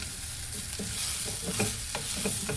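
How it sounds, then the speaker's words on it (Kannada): Raw jackfruit fries in a pressure cooker with a steady soft sizzle, while a utensil scrapes and stirs it in a few brief strokes close by. "ನೋಡಿ, ಎಷ್ಟು ಚೆನ್ನಾಗಿ ಫ್ರೈ ಆಗ್ತಿದೆ."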